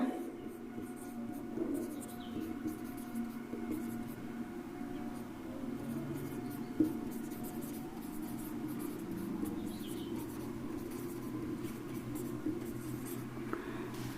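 A pen scratches steadily on paper as a math proof is written out by hand, quiet and continuous against a low background hum.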